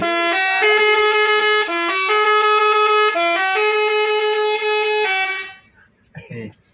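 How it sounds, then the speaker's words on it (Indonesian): An Indonesian telolet bus horn blares a loud, multi-note melodic tune, shifting pitch in steps for several seconds before cutting off to quiet background sounds. "kasih bunyi klakson"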